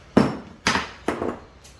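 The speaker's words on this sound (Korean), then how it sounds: "망치를 쳐 넣어야 되는 데" Three loud, sharp hammer blows strike a new car suspension part being driven into place during undercarriage repair, evenly spaced about half a second apart, close and ringing with brief decay and no talk.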